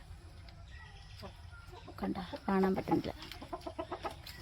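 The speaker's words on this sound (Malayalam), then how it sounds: "ഇതാണ് ഞങ്ങളുടെ കോഴികൾ" Hens in a backyard poultry enclosure cluck and squawk in a brief burst at close range, with someone talking over them.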